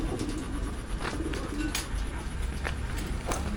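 Soft, low pigeon coos repeat through a quiet outdoor background, with faint chirps and brief rustles here and there.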